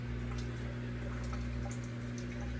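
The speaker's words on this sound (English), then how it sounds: "I hear it draining." A Whirlpool Duet front-load washer drains water, a faint steady trickle and gurgle over a constant low motor hum, with small drips scattered throughout.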